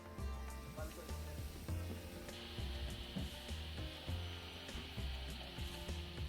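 Chopped onions frying in a pan for lamb kurma, a steady low sizzle with clattering stirring knocks and scrapes repeating throughout, fairly quiet and close.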